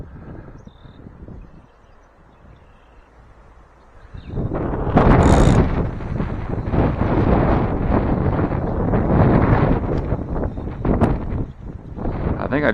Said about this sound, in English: The wind's kind of doing what it wants.